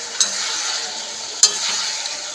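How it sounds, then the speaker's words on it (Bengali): Pre-fried potatoes being stirred and sautéed with spices and vegetables for a Bengali rui fish curry, a soft continuous sizzle broken by two sharp spatula scrapes against the pan, close up with no voices. "দিয়ে নেড়ে ফেড়ে একটুখানি কষিয়ে নেব।"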